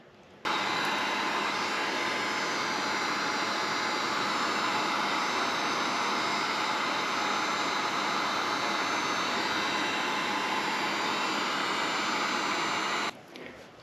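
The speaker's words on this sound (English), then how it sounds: "I'm gonna take a heat gun and kind of warm up this end." A heat gun roars as a steady, loud, even blowing hiss while it warms the end of a snowmobile oil injection line, switching on abruptly and cutting off sharply after about thirteen seconds.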